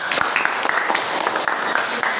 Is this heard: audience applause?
yes